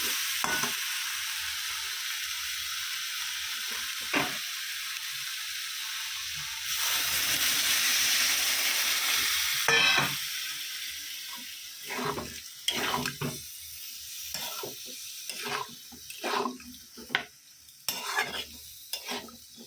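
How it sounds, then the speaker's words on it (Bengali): Water poured into a frying curry in a pan, with a loud hissing burst followed by repeated scraping stirs against the pan and softer sizzling. "কষা হয়ে গেছে বন্ধুরা, জল দিয়ে দেবো।"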